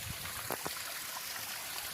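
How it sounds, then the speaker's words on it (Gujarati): Irrigation water pours steadily out of a filled pit straight into a farm field, a continuous rushing, trickling flow heard close by, with a couple of brief splashy knocks partway through. "ખાડો ભરાયા પછી સીધું પાણી ડાયરેક્ટ આપણા ખેતરમાં"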